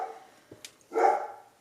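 An 11-year-old dog, heard indoors, gives a single short, moderately loud bark at a passing delivery truck, following a few faint small sounds.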